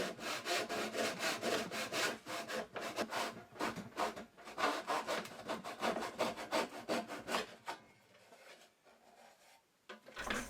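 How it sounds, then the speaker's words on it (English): A hand saw cuts through a wooden mitered-corner box held in a vise, making rapid rhythmic back-and-forth rasping strokes up close that slow and fade as the cut finishes. "flip it in the vise, ready to make the final cut in the other end"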